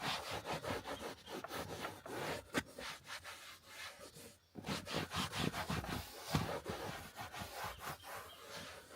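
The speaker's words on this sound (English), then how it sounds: "Then now use a dry cloth," Leather rubbed with a dry cloth to wipe off excess Mother's leather conditioner, giving quick repeated back-and-forth scrubbing strokes, close and fairly soft, with a brief pause midway.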